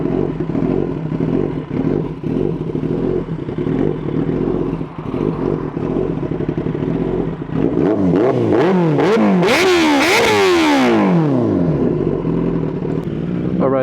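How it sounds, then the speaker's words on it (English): A Kawasaki ZX-10R 1000cc sport motorcycle with a race exhaust idles warm with a loud, throaty rumble, then revs sharply several times, the pitch rising and falling in quick bursts. "we're going to start the bike up here, do a little rev so you guys can hear the race fit exhaust"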